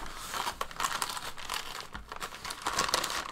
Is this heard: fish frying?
no